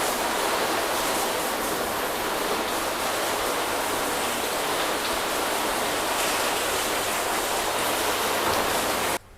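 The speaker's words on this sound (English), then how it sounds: "Okay, and let's go ahead and rinse." Steady close spray of water rinsing soap off a car's coated paintwork, a dense hiss that runs without a break for about nine seconds and then cuts off abruptly.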